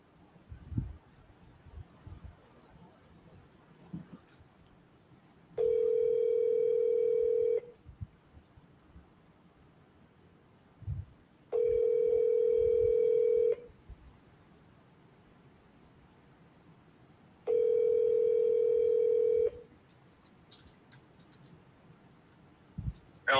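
An outgoing phone call to a sales lead rings back three times: evenly spaced, steady electronic ring tones about two seconds each, separated by quiet line hiss and faint clicks.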